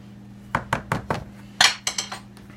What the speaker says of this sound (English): Really mix it in until it's smooth.